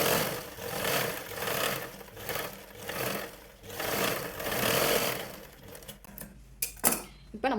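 A sewing machine stitches a second row over a blouse sleeve seam in short bursts that swell and fade, soft and fairly close, then stops with several sharp clicks and clatters.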